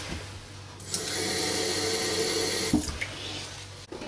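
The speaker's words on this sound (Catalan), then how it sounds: "Hem de rentar l'arròs fins que l'aigua que surti de l'arròs quedi totalment transparent." Sushi rice is rinsed under running water until the water runs clear: a steady close gush of flowing water with brief clattering at the start and end.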